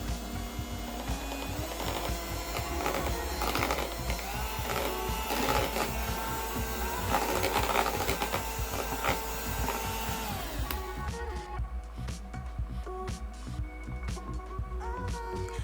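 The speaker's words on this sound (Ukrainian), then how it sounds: "Все перемішую міксером." An electric hand mixer whirs steadily as it beats egg yolks for a lemon cake, a loud, continuous motor drone that drops in tone near the end.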